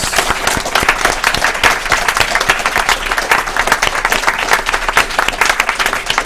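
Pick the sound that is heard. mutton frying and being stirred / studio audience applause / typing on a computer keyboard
studio audience applause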